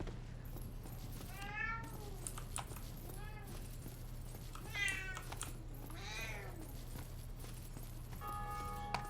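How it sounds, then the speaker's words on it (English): A house cat meows repeatedly, with several drawn-out, rising and falling calls spaced a second or two apart, fairly near but quiet, over a steady low hum and faint clicking from a computer game being played. "Now I think the cat's going to install herself on my lap."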